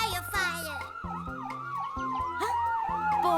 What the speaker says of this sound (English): A fire engine siren. I hope they speed by quickly.